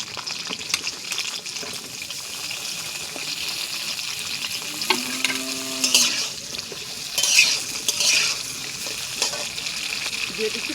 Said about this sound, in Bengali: এবার তেলের মধ্যে কেটে রাখা পটলগুলো দিয়ে দিচ্ছি।